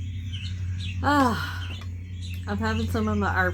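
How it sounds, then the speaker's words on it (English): Birds chirp outdoors during a relaxed meal outside, with short rising and falling calls in two bursts over a steady low hum, while a person talks briefly nearby. "Listen to the birds, eh, while we sit outside and eat."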